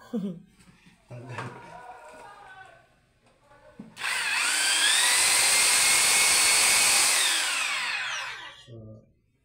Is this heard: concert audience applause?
no